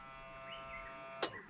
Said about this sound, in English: That is the sound of a bilge pump working.